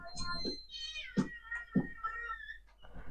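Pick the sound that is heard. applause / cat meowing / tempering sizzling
cat meowing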